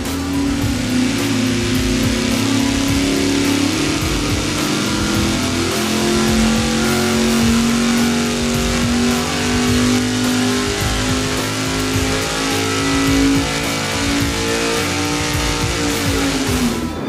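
An engine runs hard on a dyno during a budget fuel pump flow test, a loud, steady, close roar with the pitch slowly climbing and then easing over about seventeen seconds, with no voices.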